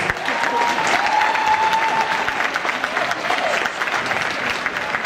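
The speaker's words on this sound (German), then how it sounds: "Geleiten Sie die beiden aus der Arena mit Ihrem Applaus." Loud, continuous applause from an arena crowd at a horse show demonstration, a thick wash of clapping that holds steady and eases slightly toward the end.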